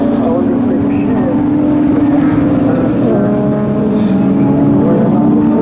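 Pre-1983 Group 1 touring cars, including a BMW, race around Donington circuit, their engines making a loud, continuous roar that rises and falls as the cars pass close together.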